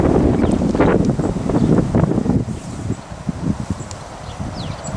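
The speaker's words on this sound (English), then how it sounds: "time there's a gust of wind, all the blossom starts blowing off the leaves" A gust of wind sweeps through a pear and apple orchard in blossom, a loud, continuous rumbling buffet on the microphone that gradually eases, with no talking.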